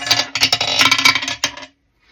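Dice clattering and tumbling onto a hard surface during a tarot-style pick-a-pile reading, a close, busy rattle of repeated clicks lasting over a second, then a final knock and silence.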